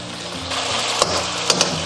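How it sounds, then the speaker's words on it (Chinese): Squab pigeon sizzles steadily in a frying pan, a close continuous hiss broken by a few short knocks and scrapes as the bird is turned over to fry the other side. "煎了2分钟左右，我们给它翻一个面继续煎。"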